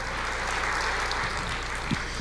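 Church congregation applauding together, a steady dense wash of clapping that holds evenly from start to finish with no voices standing out.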